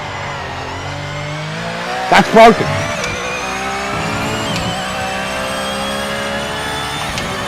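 A Mercedes race car in a racing video game drives with a steady engine drone, a brief burst of tire squeal or skid partway through, and someone talking over it.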